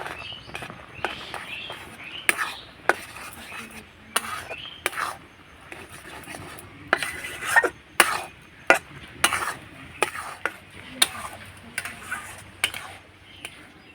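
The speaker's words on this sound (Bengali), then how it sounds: "এবার মিডিয়াম আঁচে নাড়াচাড়া করে আমি ডো বানিয়ে নেব" Semolina dough is stirred in a kadai over medium heat for carrot pitha, with repeated sharp taps and scrapes of the spoon against the pan in an irregular rhythm over a soft background.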